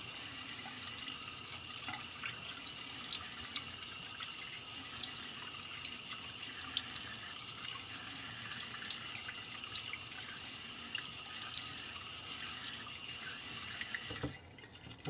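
A tap runs steadily at the sink as a razor is rinsed after shaving, a continuous close hiss of water with faint drips and clinks and a sudden stop near the end.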